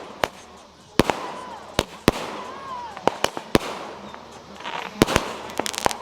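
Fireworks from a 200-gram consumer cake burst in a rapid series of sharp, loud bangs, some with whistling trails, several overlapping, outdoors at a Fourth of July celebration.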